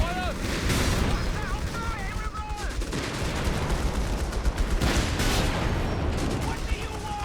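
Combat in the WWII strategy game Company of Heroes 3, with armor firing: steady gunfire and heavy booms rolling under constant battlefield noise, while in-game soldiers shout over the din.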